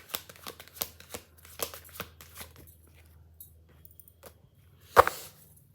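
Tarot cards being shuffled in a soft, rapid riffle of papery flicks for a couple of seconds, then quieter handling and one sharp snap near the end, close by.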